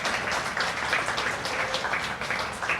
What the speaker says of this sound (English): Let's have a round of applause for the cafe team, led by Chef Michael Scanlon,